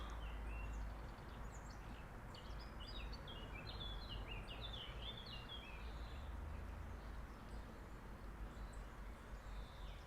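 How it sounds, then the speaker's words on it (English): Faint birdsong drifts through a spring garden at the end of March, scattered chirps and short trills rising and falling over a steady low outdoor hum, distant and quiet. "all you hear here is birdsong"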